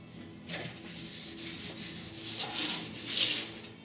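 A sanding block scrubs back and forth over primer/surfacer on the rusty roof of a 1969 Chevrolet C10 truck, close, rhythmic abrasive strokes repeating in quick succession without any talking.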